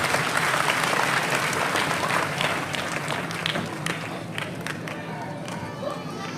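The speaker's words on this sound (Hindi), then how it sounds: "वो जोरदार तालियों के माध्यम से आपका स्वागत करें" Vigorous crowd applause in a town hall during a cleanliness service event, dense and loud at first and gradually thinning, with murmured voices and some shuffling underneath.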